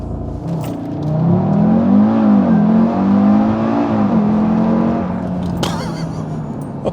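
Audi RS3 engine pulling hard on a test run along a road, a loud sustained climbing drone with rising pitch through the gears, close and continuous, easing off near the end.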